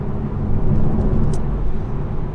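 A manual Toyota GR Supra with a 335 bhp engine accelerates in second gear on an open road, giving a steady, moderately loud low engine drone with road noise and no talking.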